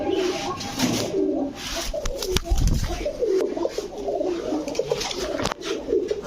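Several pigeons of fancy breeds such as Teddy, Saharanpuri, Golden and Budapest coo in a steady, overlapping chorus from a nearby loft, with bursts of wing flutter and other bird calls mixed in.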